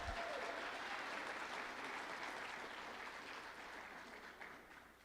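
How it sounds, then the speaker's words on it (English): Sustained applause from a crowd at a university graduation ceremony, dense steady clapping that fills the space and tapers slightly toward the end. "Clap it up, clap it up."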